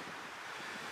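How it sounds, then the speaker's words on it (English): Steady wind buffets the microphone at a portage in Algonquin Park, a constant rushing roar with no voices or other distinct sounds. "Pardon the wind"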